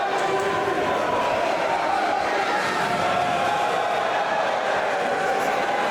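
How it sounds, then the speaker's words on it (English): Dense, continuous roar of a wrestling crowd cheering at an indoor NCG event, sustained and loud with no breaks, voices blending into a wash of noise. "Sounds like the crowd likes something that they see, though."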